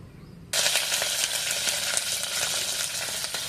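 Carrot, cauliflower and raw peas hit hot ghee in a pressure cooker with a sudden loud sizzle that starts after a brief quiet moment, then keeps up as a close, steady frying hiss with a few stirring scrapes.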